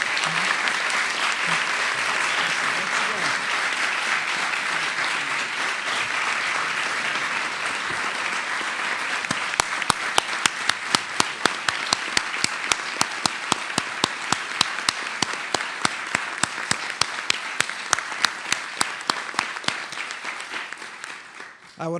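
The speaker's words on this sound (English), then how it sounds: "How about a round of applause for our speaker?" A large press club audience breaks into sustained applause, a dense wash of many hands that grows crisper and more distinct partway through before tapering off near the end.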